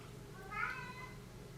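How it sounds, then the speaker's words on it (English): A single short cat meow, rising and falling, sounds at moderate distance against a quiet background hum, with no speech over it. "And I hear my cat's trying to talk to me."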